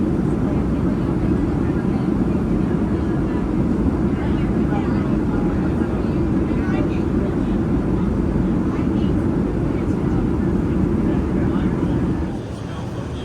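Steady loud broadband roar inside the cabin of a DC-8 airliner cruising at altitude, a continuous engine and airflow drone with faint chatter beneath, easing slightly near the end.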